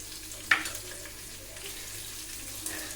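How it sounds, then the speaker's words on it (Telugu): Chopped okra pieces fry gently in tempering oil in a home kitchen, giving a soft, steady sizzle with a brief clatter near the start, quiet and continuous, with no talking. "పోపు అయితే వేగిపోయింది ఇప్పుడు బెండకాయ ముక్కలు కట్ చేసుకున్న ముక్కలు కూడా వేసుకున్నాము"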